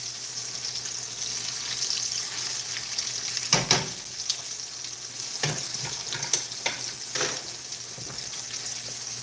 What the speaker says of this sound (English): Got to fry that tail crispy because I eat the tail too